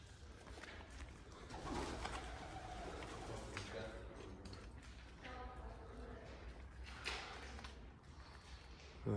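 Pigeons coo inside an abandoned, since-demolished Robert Fletcher paper mill, their calls echoing faintly through the empty building beneath a steady rumble of background noise and indistinct voices.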